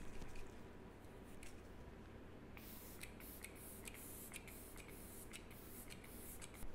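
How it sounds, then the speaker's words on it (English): A hissing spray starts about midway, followed by a run of short, sharp bursts from a pump mister spraying makeup setting spray, close by, with no one talking. "So I'm just going to spray this on really quick"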